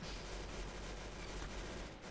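Gunfire in the Roblox Arsenal video game, a quiet continuous rattle of rapid shots blending into a dense burst of firing for about two seconds, with no talking.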